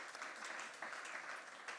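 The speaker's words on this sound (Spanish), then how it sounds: "Hay que aplaudir ese poema que es fantástico" Audience applause after a poem at an award ceremony honouring poet Luis Alberto de Cuenca, a steady dense patter of many hands clapping throughout, fairly distant and even in level.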